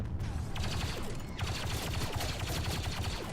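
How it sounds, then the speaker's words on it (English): A turret in Star Wars Battlefront 2 on Starkiller Base firing at players, a fast continuous rattle of rapid shots, fairly quiet and unbroken through the short stretch. "from here, I can see where my turret's shooting"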